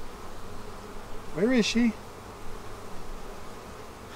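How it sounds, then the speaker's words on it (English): A dense, steady buzz of many honeybees in an open hive during an inspection fills the clip, with a voice speaking briefly over the swarm's drone. "There's a lot of bees in here."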